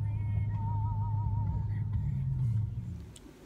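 An Uber car drives along a road in Manila, its steady low engine and road hum continuing at moderate level inside the cabin, then fading slightly near the end.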